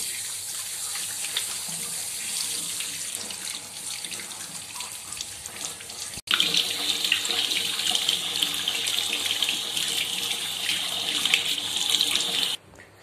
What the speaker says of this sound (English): Rinse your hands well under clean running water.